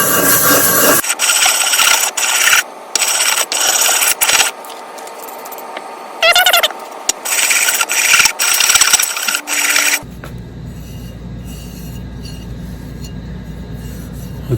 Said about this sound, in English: I'm going to rub the surface in a circular motion on here